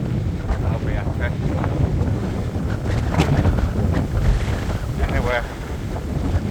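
Strong wind buffets the microphone of a rider cycling outdoors, a loud continuous rumbling roar with gusty swells, and a voice speaks faintly beneath it.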